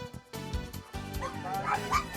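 Dogs bark, yip and whimper among a crowd gathered with animals for a blessing on the feast of St. Anthony in the plaza outside a church in Mexico City, a busy, overlapping din that builds toward the end.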